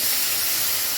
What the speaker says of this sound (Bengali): ডালটা ঢেলে দিচ্ছি।